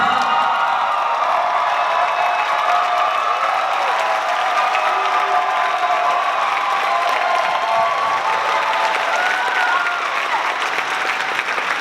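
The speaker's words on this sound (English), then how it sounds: "please give them a warm round of applause" Sustained applause from a large audience at the HMS/HSDM FABRIC 2017 event, steady dense clapping with a few cheers mixed in, loud and continuous throughout after a name is called.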